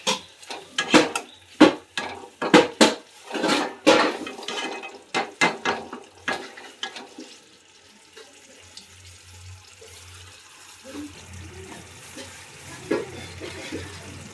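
A lid comes off a cooking pot of chicken kasha and a spoon scrapes and stirs from the bottom, giving a burst of sharp clanks and scrapes, then quieter sizzling simmer from the pan over low gas.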